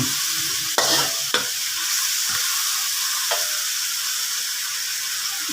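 Mushrooms fried in a wok, with meatballs and tofu mentioned alongside, give a steady close sizzle with a few sharp scraping stirs near the start and another later on. No one speaks.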